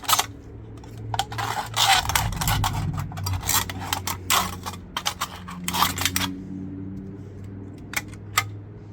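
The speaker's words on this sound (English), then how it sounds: "You just take a cut off the can" Metal snips cutting a strip from an old metal can, a run of sharp clicking and scraping snips with a low steady hum behind them, close and moderately loud.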